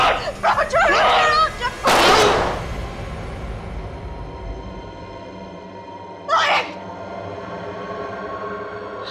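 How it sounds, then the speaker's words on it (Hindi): A sharp, loud broadband burst rings out near the start, followed by a quieter crack a few seconds later, over a low background rumble. "तेरे वजह से गोली चल गई।"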